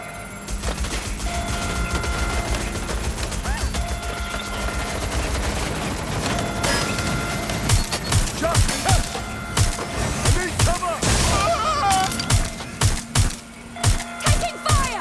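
Gunfire in the video game Watch Dogs: Legion, rapid bursts of close shots crackling over a busy background, growing into sharp, repeated volleys toward the end.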